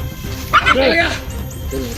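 A dog in a video game barks and yips a few times in quick succession, mixed with game-like sound effects and some background talk.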